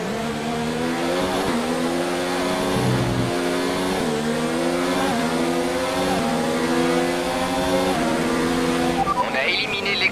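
Formula 1 car engine in the video game F1 2019, revving loudly and continuously with repeated upshifts and rising pitch, heard close from the cockpit while a race engineer talks over it by radio.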